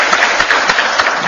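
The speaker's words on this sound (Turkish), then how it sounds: "Bir alkışlıyorum ben sizi." Steady, dense applause from a studio audience during a Turkish regional TV show, loud and continuous for its whole short length with no talk over it.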